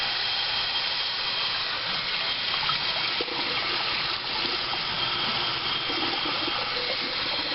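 A steady, loud rush of running water pours over sprouts during rinsing at home, a continuous close gushing with slight splashing variations and no one speaking.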